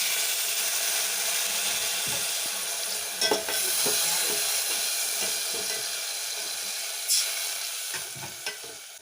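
Spices with red chilli powder and a splash of water sizzle steadily in a pan for lauki kofta curry, with a few scraping stirs of a spoon cutting through the constant frying hiss.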